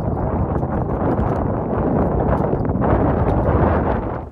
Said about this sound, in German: weil es windet und der Sand bläst mir um die Ohren